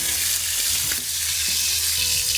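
Pork tenderloin browns in a hot pan with a steady, close, continuous sizzle and crackle from start to finish, with no one talking.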